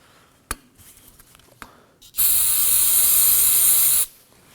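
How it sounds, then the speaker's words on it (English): An aerosol can of brake parts cleaner sprays in one steady, loud hissing burst of about two seconds, preceded by a few small clicks and handling sounds, cleaning rear parking brake parts on a Kia Sorento. "We wanna grab some brake parts cleaner, and we're gonna go ahead and clean it off."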